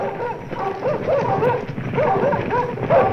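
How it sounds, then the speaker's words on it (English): Scent hounds bay and bark in a loose, overlapping pack on a stag hunt, a steady chorus of yelps and bow-wows close by, staged for an audio drama record. "The scent hounds have found the quarry."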